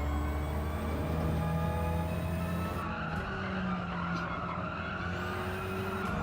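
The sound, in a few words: tyres squealing in Gran Turismo 7 video game race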